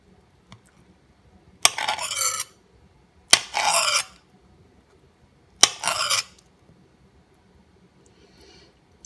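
Knife cutting the brown and black parts off an avocado for guacamole, three short scraping slices spaced a second or two apart, close and clear against a quiet room.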